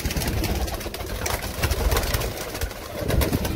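Teddy pigeons coo in a loft amid a busy outdoor background, soft repeated calls rising over a steady ambient rumble.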